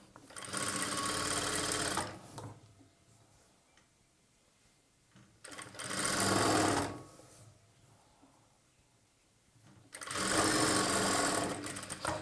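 A sewing machine hems a plain blouse in three loud, steady bursts of stitching, each about two seconds long, with quiet pauses between them while the fabric is folded.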